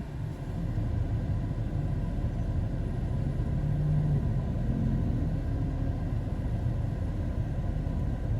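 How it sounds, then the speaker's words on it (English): A city bus rolls along a neighborhood street with a steady low engine rumble that stays loud and constant throughout, with no voices over it. "There's a city bus."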